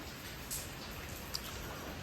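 Steady patter of rain falling, a soft continuous wash with a couple of sharper drips standing out, fairly quiet and even throughout.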